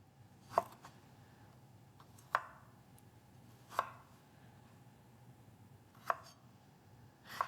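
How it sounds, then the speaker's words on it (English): A knife slices the skin off a piece of ginger, giving five crisp, separate cutting strokes spaced a second or more apart against a quiet background. "we want to very delicately cut the skin of the ginger off"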